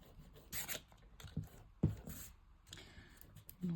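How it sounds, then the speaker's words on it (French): A pencil eraser rubs out guide marks on paper during scrapbook album making, heard as several short, faint scrubbing bursts separated by quiet gaps. "on va gommer nos repères"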